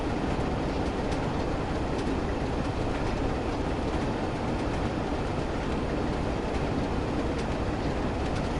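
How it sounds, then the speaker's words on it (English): A NYC-style subway car in the video game Train Sim World rumbles steadily along the rails, a continuous loud roar with faint clickety-clack of wheels and no talk. "Yeah, it's more of a NYC subway car sort of thing"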